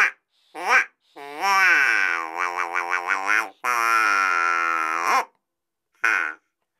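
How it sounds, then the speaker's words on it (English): Duck call whistle blown in several bursts, nasal buzzing quacks with wavering pitch, some short and one long sustained run with pulsing, loud and close with silent gaps between. "This is a duck call."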